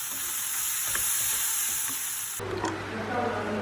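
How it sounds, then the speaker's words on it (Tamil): Onion frying with ginger garlic paste and masala in a pan for a Tamil aloo cutlet, a steady close sizzle with scattered stirring scrapes, growing louder and busier partway through as fresh paste hits the oil. "இஞ்சி பூண்டு பேஸ்ட் போட்டுட்டு ஒரு 1 மினிட் இதை ஃப்ரை பண்ணிடுவோம்"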